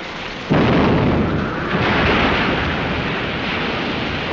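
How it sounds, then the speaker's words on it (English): A cannon fired aboard a ship in an old film bursts in with a heavy boom, then a long rumbling roar that slowly fades, loud and without speech. "Fire that gun"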